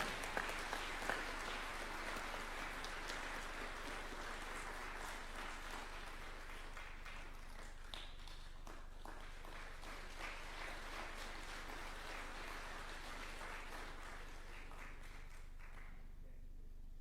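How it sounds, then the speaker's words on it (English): Audience applause fills a State House ceremony where senior counsel are conferred, sustained clapping running steadily throughout at moderate distance before thinning out near the end. "Another clap would be in order."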